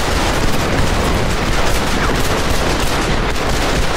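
Rapid gunfire from a Red Dead Redemption showdown in the video game, a dense, continuous barrage of loud overlapping shots with no pauses.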